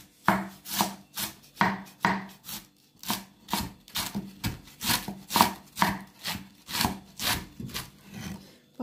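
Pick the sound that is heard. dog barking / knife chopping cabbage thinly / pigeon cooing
knife chopping cabbage thinly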